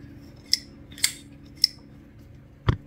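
A Berg Blades Barber button-lock straight razor clicks sharply three times in quick succession, then a heavier snap follows after a pause. The clicks are crisp, metallic and close against a quiet room.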